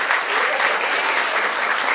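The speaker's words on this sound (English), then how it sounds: "So I need a little round of applause." An audience gives a round of applause, a steady wash of many hands clapping together, loud and sustained throughout.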